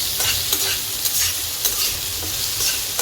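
Onion and two bay leaves frying in hot oil, a loud close continuous sizzle with soft rhythmic stirring scrapes every half second or so.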